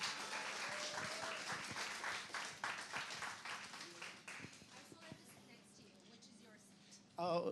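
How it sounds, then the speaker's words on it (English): Applause from an event audience as a guest comes on stage, dense clapping that gradually thins and fades under talk and faint crowd murmur, ending with a louder close burst. "Can we have a big round of applause for Sunny,"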